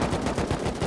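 Rapid automatic gunfire from a video game set on an oil rig, a dense, continuous burst of shots rattling close and loud for under a second.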